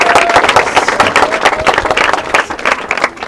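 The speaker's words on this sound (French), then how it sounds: "Applaudissons." At a school ceremony, an audience claps loudly and densely, steady applause close up filling the whole moment.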